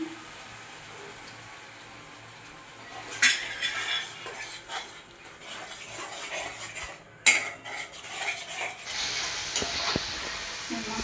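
A spoon scrapes and stirs a wet masala being cooked down with water in a pan for masala chicken curry, with soft hissing throughout and a couple of sharper metal clinks.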